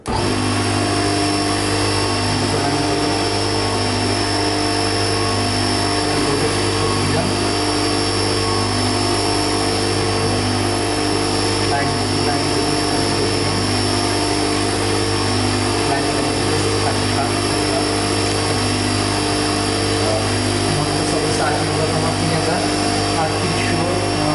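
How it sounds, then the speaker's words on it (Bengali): An electric motor runs at about 3000 rpm on a machine lab test bench. Its loud, steady whirring hum with tonal overtones holds without a break. "অন সুইচটা যদি অন করে দিই সেক্ষেত্রে আমার মিটারটা এই মোটরটা রান করে"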